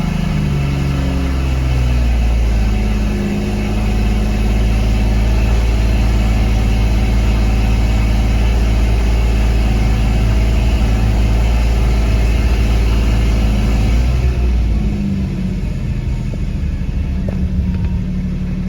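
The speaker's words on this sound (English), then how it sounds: "Start and let the engine run idle." A Porsche 981 GT4 engine idles after an oil change with Motul 5W-40, a loud, close, steady low rumble with a constant hum that dips slightly near the end.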